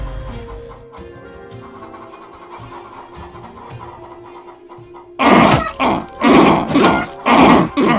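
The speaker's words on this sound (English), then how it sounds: "What the hell are these chickens doing, Jack?" Chickens in the game Undead Horde cluck and squawk, first as faint clucks over low game sounds, then as a loud run of bursty, raspy calls.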